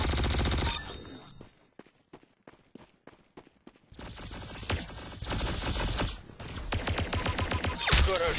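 Rapid automatic gunfire in the Roblox game Arsenal, with loud bursts, a stretch of clipped single shots, then dense sustained firing over game noise.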